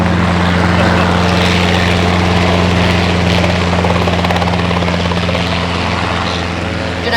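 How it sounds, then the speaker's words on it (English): A helicopter flies overhead at a prescribed burn training site in Texas, its loud, continuous rotor thrum and engine whine steady and close for the whole stretch, fading only slightly at the end. "Did I mention there was a helicopter here?"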